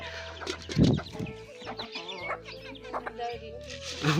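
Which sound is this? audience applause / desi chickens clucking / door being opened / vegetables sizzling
desi chickens clucking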